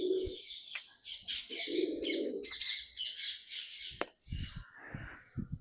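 Loud, harsh squawking calls from parrots in a home bird loft, a dense overlapping burst for several seconds, followed by a few shorter calls and low thumps.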